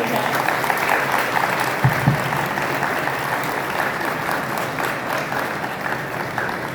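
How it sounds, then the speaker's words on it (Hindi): An audience at a school's inaugural session for a zero waste campus initiative gives the principal hearty applause, a loud, full, sustained roar of many clapping hands that holds steady for the whole stretch. "जोरदार तालियों से स्वागत हो जाए।"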